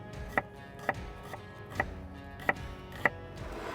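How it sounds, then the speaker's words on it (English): A knife slicing shallots finely on a cutting board outdoors, six crisp, evenly spaced chops close up over a low background hum. "Peel, and then a very nice fine slice."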